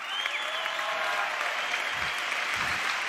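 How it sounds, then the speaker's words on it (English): An audience at a talk breaks into clapping, a dense, steady wash of applause that holds at an even, moderately loud level for about three seconds. "Clap it up if you're a fucking nerd."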